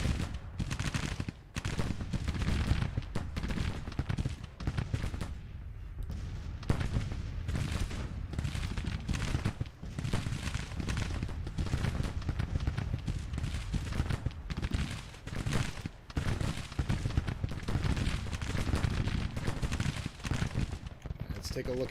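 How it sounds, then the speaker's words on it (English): Massed troop fire in a Grand Tactician Civil War battle: dense, continuous crackle of musketry and distant volleys rolling on without pause, with a voice talking over the din at times. "Bragg engaged and firing now."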